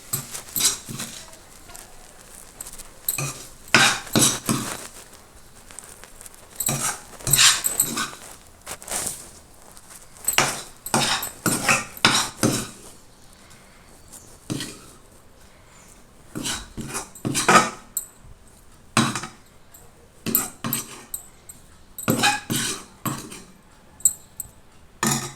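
Spoon stirring carrot rice in a pot with the stove off, giving repeated clinks and scrapes in irregular bursts, close and fairly loud, with quiet gaps between.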